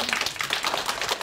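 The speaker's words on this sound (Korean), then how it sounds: "박수 한번 주시죠." A short burst of audience applause at a Seoul community media forum, with dense, even clapping from a crowd greeting a speaker.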